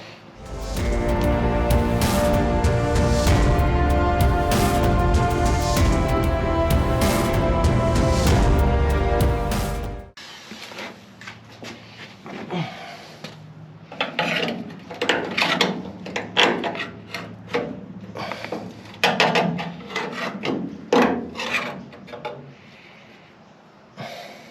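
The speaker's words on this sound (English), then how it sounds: "we can just cut across here and we'll start to open this up" A 1969 Ford Falcon quarter panel is cut open with a loud, steady power cutting tool for about ten seconds, then the cutting stops and irregular clanks and scraping of sheet metal follow.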